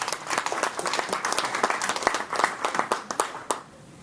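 A workshop audience gives a round of applause as a volunteer is called up, a lively burst of individual claps with distinct sharp hits that builds, holds and then stops abruptly near the end.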